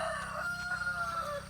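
Backyard chickens, a rooster giving a drawn-out crow with hens clucking around it, moderately near against a steady outdoor background hum.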